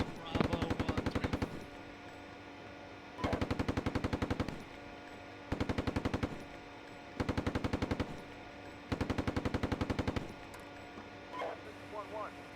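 Gunfire in the Steel Beasts Pro PE combat simulator: five loud, sustained bursts of rapid automatic fire separated by short pauses, with faint chatter between them.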